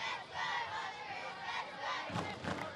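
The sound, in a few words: home fans cheering for Western Sydney Wanderers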